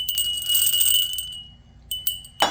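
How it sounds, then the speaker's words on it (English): A small bell topped with a cardinal figure is rung, giving a bright, sustained metallic ring that lingers and fades, followed by a couple of lighter shorter rings and a clatter near the end. "This cardinal's on a bell. We'll ring it."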